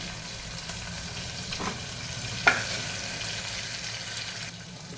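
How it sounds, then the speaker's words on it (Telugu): Onions fry in oil over ginger-garlic paste in a pan, a steady close sizzle with a few stirring scrapes and one sharp clack midway, no talking. "తర్వాత ఆనియన్ వేసి వేగనివ్వాలి"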